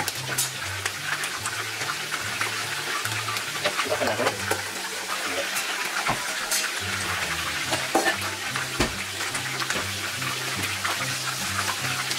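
Bitter gourd (ampalaya) being sautéed in a pan for ginisang ampalaya, giving a steady close sizzle and frying hiss with occasional stirring clinks, under a continuous low musical or humming background.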